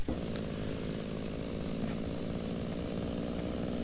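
A video game jet engine, on a Me 262, spools up with a steady rumbling drone and a rising whine, loud and continuous throughout, with no voices.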